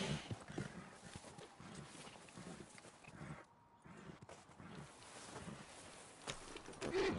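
Horse hooves clip-clop in Red Dead Redemption 2, a steady walking rhythm of repeated thuds at moderate loudness over busy game ambience, briefly dropping out midway before resuming.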